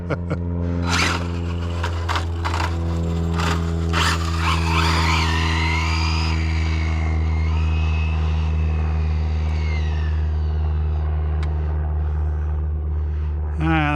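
HPI Maverick RC car fitted with a SpeedTek speed spool, whining at high pitch as it tries to burn out, the motor note sweeping up and down over a constant background hum.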